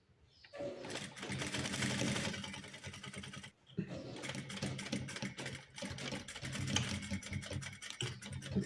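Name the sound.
sewing machine stitching blouse fabric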